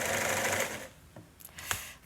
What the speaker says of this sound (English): Sarah moves on to sewing the fabric for the covers